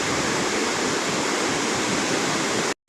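A large river where the Thimphu and Paro rivers meet at Chuzom in Bhutan, swollen by rain, gives a loud, continuous rushing roar that cuts off abruptly near the end.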